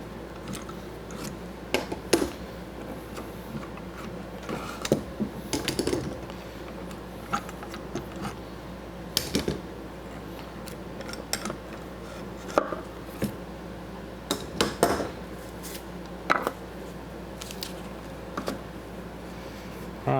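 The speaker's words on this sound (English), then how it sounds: "we're going to go ahead and remove the clamps" A glued dovetailed wooden box has its clamps taken off, giving scattered faint clicks, taps and knocks of wood and metal at irregular intervals against a quiet room background.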